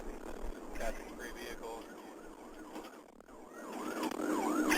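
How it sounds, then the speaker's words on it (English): Police car siren wailing steadily through a pursuit of a motorcycle, its rising and falling tone sweeping repeatedly over road noise, with a voice talking over it. "Rick, he's got his lights and sirens on, so he's in the right."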